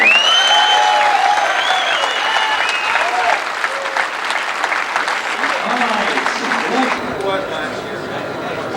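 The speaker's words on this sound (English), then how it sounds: "Big round of applause for our top qualifier, defending champion and deservingly so, Mr. Christian Kyle" A crowd at an RC car race claps for the top qualifier while cheers and whistles rise over it, the applause gradually thinning out near the end, with voices audible in the mix.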